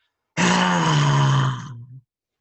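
A person's voice imitating a roar: one loud, drawn-out throaty roar lasting about a second and a half, close and alone, fading out at the end.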